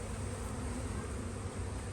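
Honeybees swarm around an open spring hive during box inspection, a dense, continuous buzzing hum close by, steady and loud with no talking.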